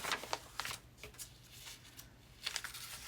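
Papery crackling and soft rustling as tea bag paper is peeled away from freezer paper, a few faint close-up tearing rasps over quiet room tone.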